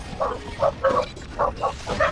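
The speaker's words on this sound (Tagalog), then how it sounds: "kanina kasi yung tumatahol" A dog barks in a quick series of about seven short, sharp barks at moderate distance, with a low background hum between them.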